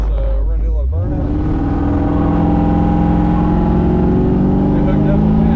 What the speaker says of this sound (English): So we're gonna do a little burnout.